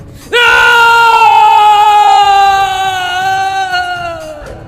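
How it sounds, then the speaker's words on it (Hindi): A man's loud, sustained scream echoes through an old haveli, starting abruptly and holding a strained, harmonic-rich cry for about four seconds before fading slightly, in a horror story setting. "तभी कुछ ऐसा हुआ जिससे ऋषि की चीख उस हवेली में गूंज गई"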